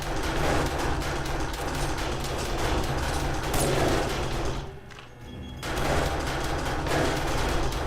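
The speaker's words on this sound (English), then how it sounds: "the turrets are very, very noisy" Automated turrets in the zombie game 7 Days To Die fire nonstop during a horde night, a loud dense clatter of rapid gunfire with a brief dip near the end before the barrage resumes.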